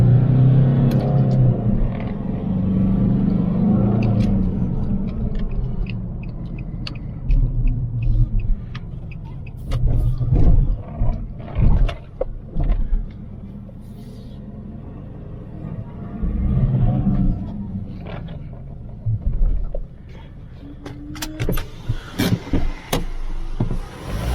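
A Nissan Navara D40, running properly again after an EGR valve fix, makes a low engine rumble that swells and eases with bursts of throttle. Quieter gaps fall between the louder stretches.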